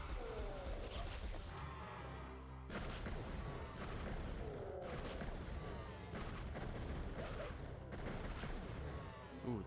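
Dense, continuous gunfire from the game Heretic tearing into enemies, loud booming shots packed close together across the whole stretch with little pause.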